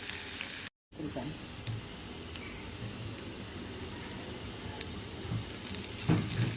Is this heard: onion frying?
yes